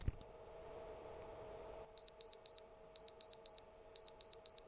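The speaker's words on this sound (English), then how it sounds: "classic piezoelectric speaker there, nice little beep" Quiet background hum, then a digital watch alarm beeps from its piezoelectric speaker in rapid groups of three, repeating three times, thin and high-pitched.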